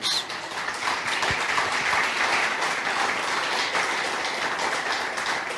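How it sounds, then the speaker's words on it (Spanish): Steady, dense applause from a church congregation during a sermon, sustained and fairly loud for the whole stretch with no talking over it. "Si quieren aplaudir, aplaudan."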